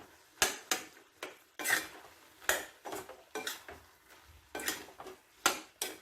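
Coconut paste being stirred into a pot of tapioca and fish curry: a string of irregular metallic clanks and scrapes as the spoon knocks against the pot, close and fairly quiet, with no one talking.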